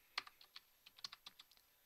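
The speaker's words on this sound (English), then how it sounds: "I'll just type it in now" Light clicking of keys on a computer keyboard, about a dozen quick, uneven taps, close and quiet, with no voices.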